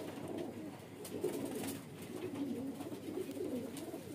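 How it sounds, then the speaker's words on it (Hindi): A medium-sized highflyer pigeon coos softly and repeatedly nearby, low rolling calls over faint background noise. "और दरमियाने वजूद की कबूतरी है"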